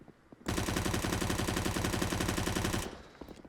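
UMP submachine gun in CSGO fired in one sustained automatic burst of rapid, evenly spaced shots lasting over two seconds, loud and close, with quiet before and after.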